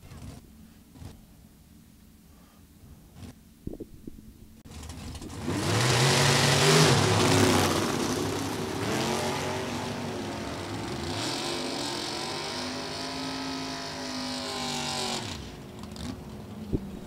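A Chevrolet Vega drag car launches down an NHRA drag strip at National Trail Raceway, its loud engine roaring and climbing through gears for about ten seconds before fading, after a quieter stretch of distant track noise.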